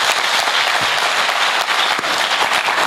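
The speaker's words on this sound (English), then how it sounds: "Another thunderous hand clap for Commissioner." Continuous crowd applause for a commissioner at an education ministry event, a thick wash of many hands clapping at an even level from start to finish.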